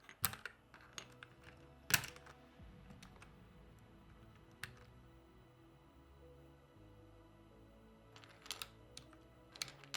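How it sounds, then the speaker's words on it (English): Keycaps being pried and pulled off a mechanical keyboard with double-shot keycaps during a teardown for cleaning, a loose series of sharp plastic clicks and snaps, quiet and close, with no talking. "and start taking off all the keys"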